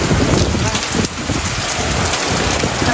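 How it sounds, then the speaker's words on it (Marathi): Sudden heavy rain falling hard, a loud, dense, unbroken roar of drops pounding surfaces, close and steady throughout. "इतका भयंकर पाऊस"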